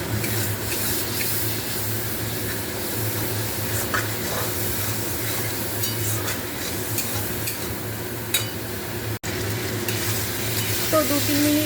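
Spices frying in a pan while being stirred, a loud steady sizzle and hiss with occasional utensil scrapes, continuing throughout.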